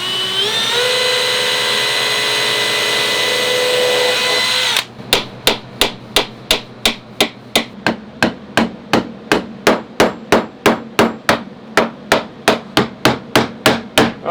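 Nails driven into old, crack-prone pallet boards with a hammer, about twenty sharp, evenly spaced blows ringing out close and loud after a few seconds of a steady whirring hum.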